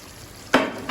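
Water poured into a hot pan of frying potatoes for aloo chicken, producing a sudden loud hiss and sizzle that breaks in halfway through, then a second burst of sizzling near the end.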